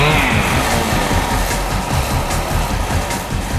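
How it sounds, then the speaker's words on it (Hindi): A recorded motorbike engine roars loud and steady, with a high whine fading early and a rough low rumble under it, alone and close. "हम तुम्हें कुछ बाइक्स की आवाजें सुनाएंगे।"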